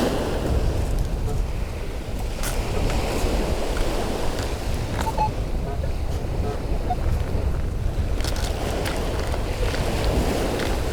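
Sea surf and waves wash steadily onto a beach under strong wind buffeting the microphone, a constant broadband rush with no clear individual breaks.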